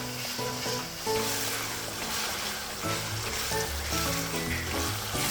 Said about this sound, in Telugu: ఇప్పుడు టమాటో వేసుకోవాలి